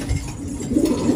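Pigeons coo softly and low in a short, close burst, their throaty murmurs overlapping.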